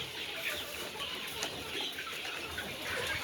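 Chickens cluck softly amid a noisy outdoor farmyard background, faint scattered calls under a steady hiss with no nearby talk.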